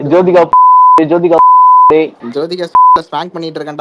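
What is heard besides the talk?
censor beep over profanity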